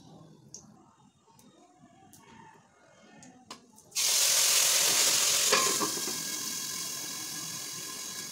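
Fenugreek seeds drop into hot oil and break into a loud, steady sizzle that fills the second half, after quieter clinks and scraping of utensils in a home kitchen.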